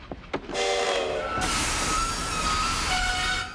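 A steam train in a western-set scene: a couple of sharp knocks, then a loud sustained rush of steam and rolling rail noise with a long whistle-like tone running over it, no voices.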